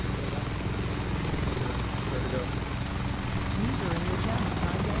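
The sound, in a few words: helicopter in flight, from a video game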